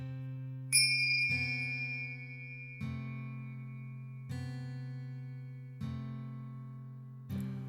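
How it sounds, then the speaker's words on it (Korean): A meditation bell in a deep hypnosis meditation session is struck five times at steady intervals of roughly one and a half seconds. Each strike rings clear and sustained, with a long low hum that overlaps the next strike, and no voice is heard. "이 종소리에 귀를 기울일 때마다 마음의 힘을 두 배 더 빼보세요."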